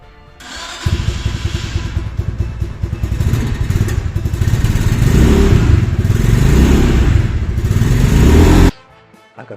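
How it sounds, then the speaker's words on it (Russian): A Motoland Scrambler 250 motorcycle fires up on the electric starter, then runs loud and close with rising revs for about eight seconds before cutting off abruptly. "Мотоцикл заводится легким нажатием кнопки электростартера."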